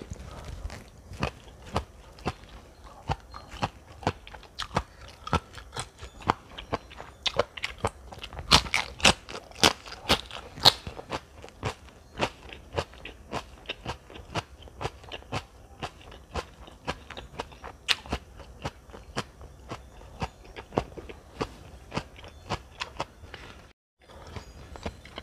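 Papaya salad with crispy squid being eaten close up, sharp repeated crunches and bites in an uneven rhythm with wet chewing between them, loud and near, with no talking.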